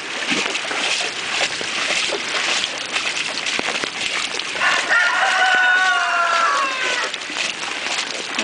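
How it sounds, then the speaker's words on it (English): Roosters in a backyard chicken coop crow amid a noisy outdoor wash during a flood in Erin, Tennessee. Several calls overlap against the roar, and a clear crow stands out near the end. "Famous singing roosters."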